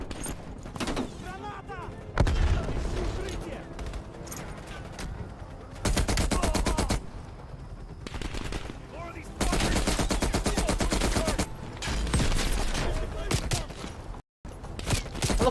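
Rapid bursts of automatic gunfire in a first-person shooter video game, alternating loud sustained volleys with shorter single shots and brief gaps, with a player talking over the shooting.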